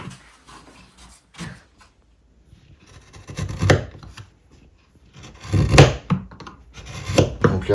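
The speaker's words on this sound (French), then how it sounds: "Les ciseaux à bois." Wood chisels cutting into maple in a luthier's workshop, heard as a string of irregular scraping and chopping strokes, several louder bursts of paring among quieter rubbing, close and alone.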